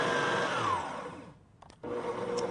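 A Cuisinart SM-70BC 7-quart stand mixer runs on its fold setting to gently mix mousse, a steady whirring motor hum that briefly dies down and then surges back to full speed.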